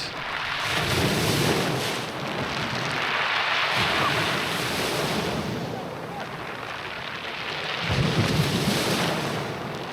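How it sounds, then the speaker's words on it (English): Waves wash in and draw back over a stone pebble beach in Nice, a loud continuous rushing roar that swells and recedes in broad surges, with a rattling hiss as the water retreats. "due to the stone beach, the water makes a really unique sound as it goes out"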